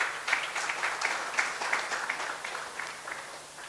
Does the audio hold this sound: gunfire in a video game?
no